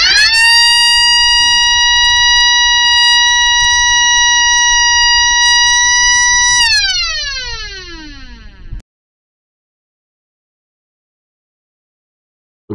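A recorded Brubeki siren plays loud and close, a steady multi-tone wail that holds level, then glides downward as it winds down and cuts off into silence, followed by a tiny click at the end.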